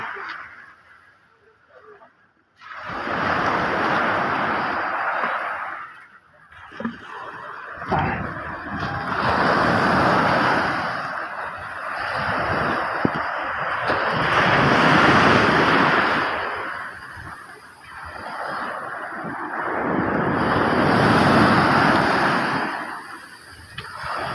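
Sea waves at high tide near moored boats on a Philippine shore, big swells surging and washing in repeatedly, loud and close, with strong wind buffeting the microphone.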